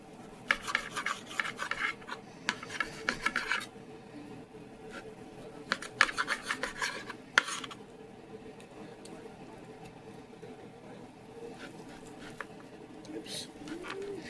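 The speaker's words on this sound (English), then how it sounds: "I'm going to cut them up in beautiful strips." A sharp knife slices raw chicken into strips on a board in a home kitchen, producing soft intermittent scraping cuts in short bursts, close but quiet, with low cooing-like vocal sounds in the background.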